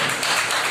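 Brief burst of audience clapping welcoming a guest at a Mission Vande Matram Foundation event, a dense, steady wash of applause with no gaps.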